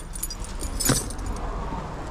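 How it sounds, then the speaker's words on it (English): A bunch of keys jangles as it is pulled from a pocket, a short bright metallic rattle peaking briefly over a steady low background with no talk. "I gotta take these keys out of here, man, before they get trapped deep into the pocket."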